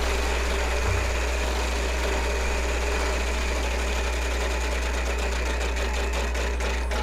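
A Wheel of Fortune style prize wheel spins with a dense, steady whirring rattle, and rapid clicks sharpen toward the end as it slows past its pegs, with no voices.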